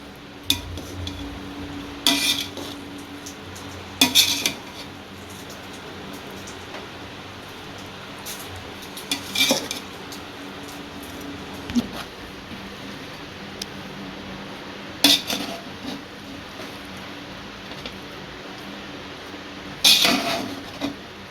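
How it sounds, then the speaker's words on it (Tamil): Chicken tikka biryani rice being gently mixed in a pot, with soft scraping and a few scattered metallic clinks of a spoon against the pot at irregular intervals, fairly quiet with no talk. "சோறு உடஞ்சிடாமல் மெதுவாக மிக்ஸ் பண்ணி விட்டுக்கலாம்"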